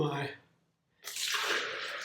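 Buckwheat soaking water is poured out onto garden flowers, a steady broadband rush of liquid that starts after a brief voice and a short pause, then continues close and fairly loud to the end.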